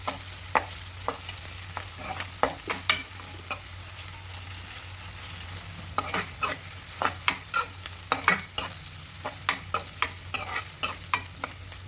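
Ginger garlic paste fries in a pan with turmeric, stirred steadily so a low sizzle runs under repeated sharp scraping clicks of a spoon against the metal. The sound stays close and moderately loud throughout.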